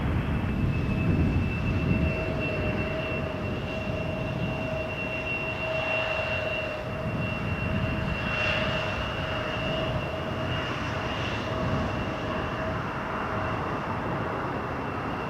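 A jet airliner at Toronto Pearson Airport roars loud and steady from start to finish, a broad engine rumble with a sustained high whine running through it.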